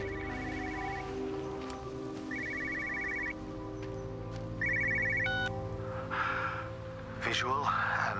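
A telephone rings in the video game Everybody's Gone to the Rapture, sounding as a repeated electronic trill in short bursts over a steady ambient drone, with other faint game sounds late on.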